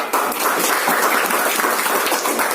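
An audience in a classroom-style teacher training session gives a dense, steady round of applause, loud and continuous with no talking over it.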